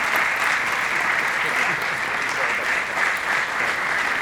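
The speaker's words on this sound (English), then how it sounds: "please give a round of applause to both candidates for participating in tonight's forum." Sustained audience applause for two candidates at an evening political forum run by a realtors' association, a steady dense wash of clapping throughout with no break.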